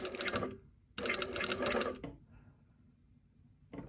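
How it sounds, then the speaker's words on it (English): A sewing machine stitches across a lapped zipper in two quick bursts of rapid needle clatter, separated by a short pause, followed by a soft mechanical clunk and near-silence. "We're going to sew across."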